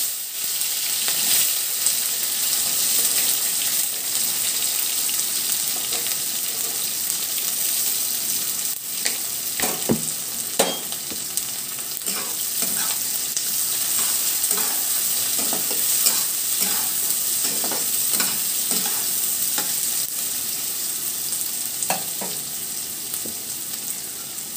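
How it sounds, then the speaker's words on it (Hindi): Onion and green chili fry in oil in a pan, a loud continuous sizzle with repeated spatula scrapes and taps from stirring, close up and without speech. "ये ऑनियन जो है इसको मीडियम लो फ्लेम कर करके इसको अच्छे से फ्राई करना है एकदम गोल्डन ब्राउन होने तक"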